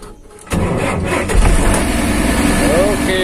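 A Mercedes 1417 truck diesel engine cranks and fires up for a routine warm-up, catching after a brief starter whir, then settling into a loud steady idle with slight revving while people talk nearby.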